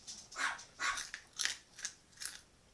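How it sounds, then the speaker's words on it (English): Someone chews dried, pre-cooked food with an open mouth, giving five crunchy, moist bites in an irregular rhythm. The bites are close but fairly soft, and there is no talking. "I'm deliberately chewing with my mouth open."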